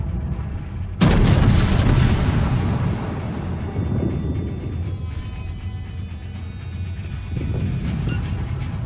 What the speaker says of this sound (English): we're actually going to fire at this catapult here